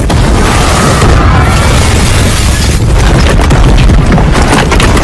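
A bomb blast in a hotel during a film scene: a loud, sustained roaring rumble with crackling debris and bursts that fill the whole clip, with no voices.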